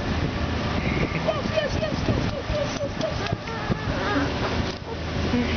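A boat moving along the Loxahatchee River with engine rumble, wind noise and splashing, while people talk nearby.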